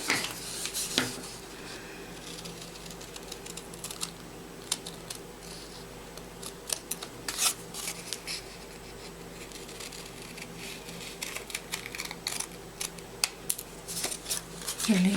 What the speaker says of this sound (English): Okay, I'm going to cut these two.